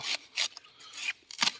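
Drilling into the trunk of a wild banana plant: short bursts of rasping, grinding scrapes in an uneven rhythm, close and fairly quiet, with no talking.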